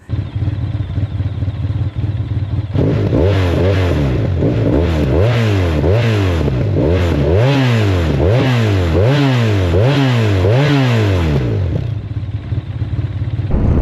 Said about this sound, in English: Mine is kind of blocked by this titanium Leo Vinci exhaust, which, since we're here, we might as well listen to.